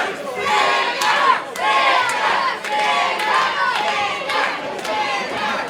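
A wrestling event crowd roars and chants in rhythmic bursts of loud shouting and cheering, rising and falling several times in quick succession.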